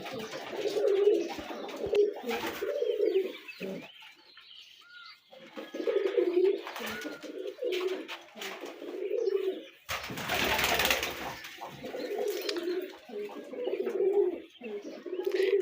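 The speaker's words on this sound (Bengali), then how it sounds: "দেখেন এগুলো আমাদের কবুতর" Pigeons cooing close by in repeated low, throaty rolls, with a brief burst of rustling partway through.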